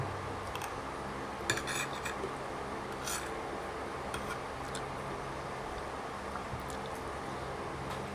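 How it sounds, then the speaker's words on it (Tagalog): Utensils tap and clink against pans while Korean chicken is being cooked, light scattered metallic ticks over a steady kitchen hiss. "Tinatry ko magluto ng Korean chicken."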